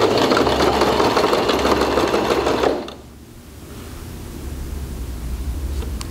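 A sewing machine runs steadily and loudly while stitching carpet fabric for a handbag, then stops abruptly partway through, leaving a quiet hum of background noise.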